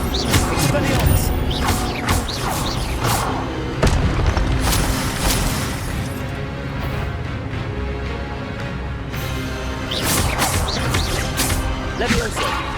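Spells cast in rapid succession during Forbidden Forest combat in Hogwarts Legacy on PS5, a dense run of punchy magical bursts and booms layered over constant battle noise and shouted voices.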